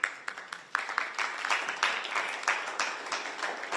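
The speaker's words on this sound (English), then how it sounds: "Let us applaud them." An audience breaks into brisk applause for climate mobilization groups at a climate change event with House Speaker Nancy Pelosi, with many hands clapping in a dense, even wash that stays steady for several seconds.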